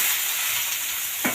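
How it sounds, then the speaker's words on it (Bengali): Boiled vegetables tipped into a frying pan of browned neem-leaf mixture and stirred, giving a steady close sizzle with a brief scraping stir near the end. "এরপর এই সেদ্ধ করা সবজিগুলো দিয়ে দিলাম।"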